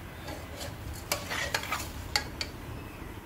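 Washed rice being stirred into paneer pulao in a cooking pot, with soft scraping and a few sharp utensil scrapes against the pot over a low background hiss, no talking.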